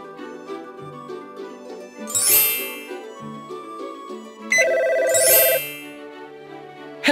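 A cartoon phone rings twice inside a children's elevator-safety learning game, each electronic ring a short bright burst over a steady musical backing, with no talking.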